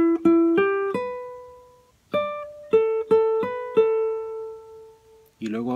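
A melody fragment played on a plucked string instrument: a quick run of notes, a pause, then several spaced notes ringing out, close and clear before a brief final strum.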